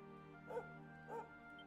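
Two soft barks from Sunday, a dog in a video game, spaced about half a second apart over a quiet sustained musical background.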